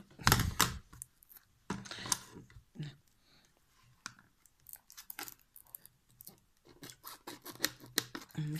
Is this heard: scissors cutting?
yes